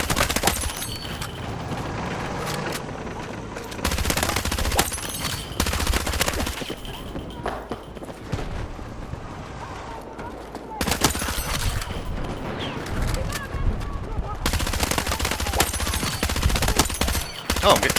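Dense gunfire in the shooter game Battlefield 6 during a chaotic fight, loud sustained volleys with almost no pause, along with other battle noise.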